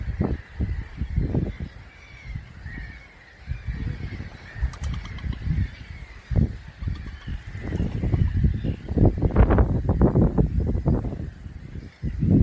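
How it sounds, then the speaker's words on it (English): A large flock of hundreds of black-headed gulls calling at a wetland reserve, a dense chorus of harsh cries and squawks overlapping continuously, some close and loud, others farther off. "the predominant species at this point is the black-headed gull, which there are hundreds, if not thousands of them"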